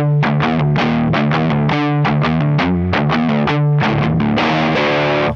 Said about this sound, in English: Karate chop the old strings right by the bridge and do the same riff.